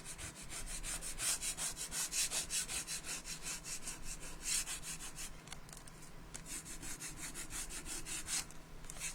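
Coarse grit sandpaper rubs back and forth over a home decor piece made with Stamperia and Prima moulds, a steady rhythmic scratchy rasping of close, repeated strokes throughout.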